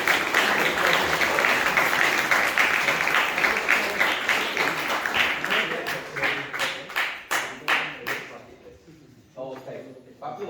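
An audience at a school graduation gives a student a big round of clapping, dense applause at first that thins into scattered separate claps and fades out, with a voice speaking over it.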